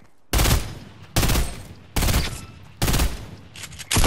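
Loud Fortnite gunfire comes in five sharp, broadband bursts, one roughly every 0.8 seconds with brief gaps of quiet between them, close and with no talking.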